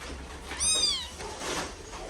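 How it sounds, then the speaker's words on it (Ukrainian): A newborn kitten about four days old, found in a dog kennel outside and now in an animal shelter, lets out one thin, rising-and-falling high meow close by, then fainter cries over a low background hum. "Це просто малюк кота. Малюк кота."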